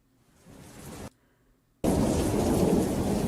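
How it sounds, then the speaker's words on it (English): Recorded rain for sleeping with a little thunder: a soft patter builds, then cuts out briefly before a loud, steady downpour roars in with a heavy rumble of thunder, and no voices. "I also have one that has a little bit of thunder in it."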